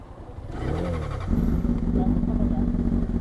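A Honda CBR 600 motorcycle engine idles, then revs up and holds a steady, loud drone close by, while someone talks over it.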